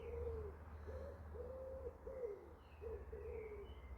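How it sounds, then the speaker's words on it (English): Birds calling at sunset in a garden, a repeated series of soft cooing calls like a pigeon or dove, steady and moderately near over a low background hum. "But the birds are going to bed."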